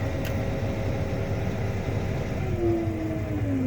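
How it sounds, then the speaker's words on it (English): A big farm tractor used for disk-ripping runs its engine steadily, a low rumbling drone with a faint rising whine near the end, moderately loud and continuous with no speech. "I'm now going to take the tractor back that way."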